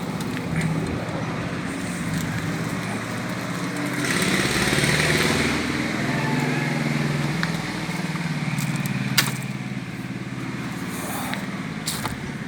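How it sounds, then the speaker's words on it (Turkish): A small motorcycle engine revs between gear changes near a road, rising to a louder surge midway and then settling back to a rough idle, with traffic noise around it. "Ara gaz veriyor be."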